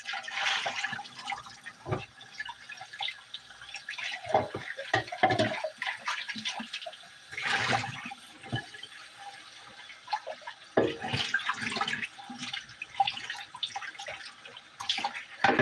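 Running water splashes and gurgles as a container is rinsed while making apple juice, a close, uneven wash of flowing and sloshing that swells and fades over several bursts.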